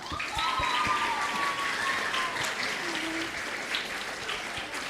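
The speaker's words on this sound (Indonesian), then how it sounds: "Mana tepuk tangannya?" Students at a junior high school orientation in Surabaya break into sustained applause, a full wash of clapping with a few whistles and cheers rising above it.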